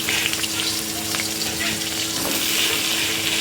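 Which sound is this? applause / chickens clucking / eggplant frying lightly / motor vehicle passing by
eggplant frying lightly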